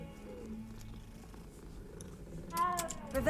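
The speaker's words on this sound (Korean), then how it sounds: "고양이다." In Hogwarts Legacy, a game cat purrs in a low, steady rumble under background game music, followed near the end by a brief brighter chime-like game sound.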